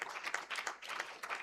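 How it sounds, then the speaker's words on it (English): An audience at a health integration summit applauds a panelist, a short burst of scattered hand claps at moderate volume, with no speech over it. "Please clap for Violet"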